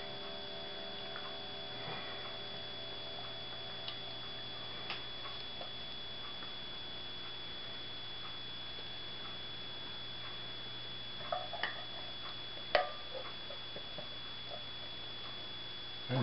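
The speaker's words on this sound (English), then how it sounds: "clock telling us it's 3:45" A kitchen clock ticks steadily in a quiet room, its soft, regular ticks faint and alone over a low background hum, with a couple of small knocks near the end.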